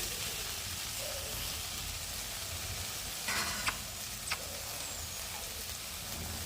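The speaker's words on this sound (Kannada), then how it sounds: "1 ನಿಮಿಷದವರೆಗೂ ಬೆಂಡೆಕಾಯಿನ ಫ್ರೈ ಮಾಡ್ಕೊಳ್ಳಿ." Okra fries in a pan with a steady close sizzle and crackle. A few light scraping stir sounds break in partway through, and there is no talk.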